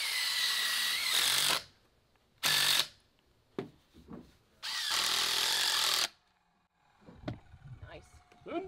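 Power drill driving 6-inch screws into AAC concrete block columns, three long loud whirring bursts separated by pauses, close up, with short voice sounds and handling noises in the gaps.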